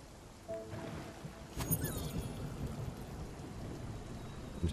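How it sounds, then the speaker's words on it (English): Steady rain hisses in a storm in the video game Spiritfarer, with a faint low rumble of thunder and a brief crack partway through, all quiet and with no speech. "This is what I call a storm."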